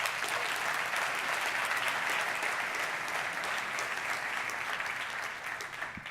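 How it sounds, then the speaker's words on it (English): A large keynote audience at a business conference claps steadily and evenly, a dense wash of applause that tapers slightly at the end. "So I just want to give them a quick round of applause."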